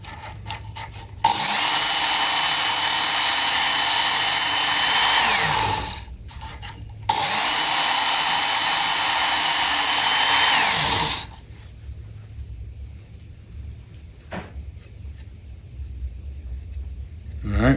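A Work Sharp Ken Onion Edition belt knife sharpener grinds a blade in two loud, steady bursts of several seconds each, whining as the motor spins up and winding down between passes. After that the room falls quiet.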